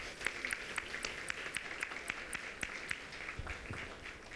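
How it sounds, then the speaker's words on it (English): Audience applause at the Urban Battery Forum during NY Climate Week 2025: a sparse, moderate round of hand claps from a modest crowd in a conference room, heard at a distance and fading toward the end. "Can we give everyone just one more round of applause?"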